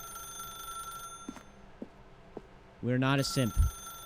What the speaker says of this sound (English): Let it ring. No, I'm not picking it up.